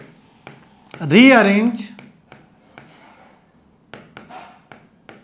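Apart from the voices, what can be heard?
writing on the board while teaching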